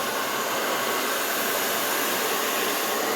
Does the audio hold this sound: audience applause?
no